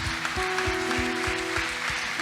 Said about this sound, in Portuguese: Aplauda o Senhor Jesus, igreja.